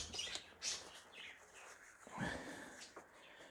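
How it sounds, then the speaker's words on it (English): Birds chirp faintly in the background of an indoor setting, a few short high tweets scattered over a low room hum, with no talk. "And birds in the background as well."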